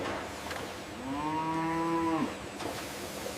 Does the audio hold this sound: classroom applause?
no